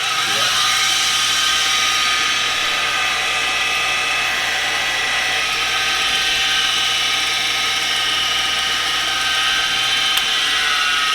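A polishing wheel spins at high speed, buffing scratched aluminum parts from a 1982 Honda CB650 motorcycle. The whine is steady and close, with a bright rushing hiss and a constant motor drone throughout, and no one speaks.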